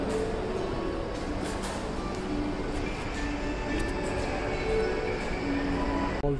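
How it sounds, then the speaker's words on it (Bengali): Metro station ambience with a train, a steady dense rumble and hum with faint tonal whine, continuous and moderately distant, with no clear talking. "হল থেকে চলে এসেছি মেট্রো স্টেশনে।"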